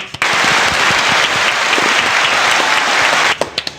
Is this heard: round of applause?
yes